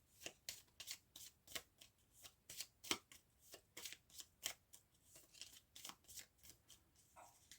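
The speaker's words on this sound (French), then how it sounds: "On va faire un petit un tirage de cette carte." Tarot cards are shuffled and drawn in quiet, close, soft riffling bursts, repeated in a steady rhythm of about two a second. No voice is heard.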